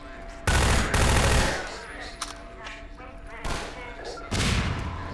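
Automated turrets in Half-Life 2 Episode 2 fire loud, rapid bursts of gunfire several times, each burst lasting about half a second with heavy booms, amid game ambience and someone talking.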